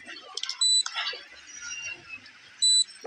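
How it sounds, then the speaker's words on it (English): A drone controller gives two short, sharp high-pitched beeps about two seconds apart as auto return and landing is triggered while filming near the African Renaissance statue in Senegal. Scattered clicks and handling noise fill the gaps. "Now, you hear that beeping. That beeping is I've just hit the button to send it into the auto return and landing sequence on its own."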